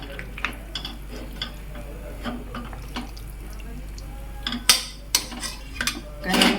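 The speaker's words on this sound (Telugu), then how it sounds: "ఇందులో మనం ముందుగా మ్యారినేట్ చేసి పెట్టుకున్న చికెన్ని వేసేసుకోవాలి" Marinated chicken is tipped into a small cooker and stirred for chicken curry, giving soft scraping and wet shuffling followed by several clanks and rattles of metal utensils against the pot.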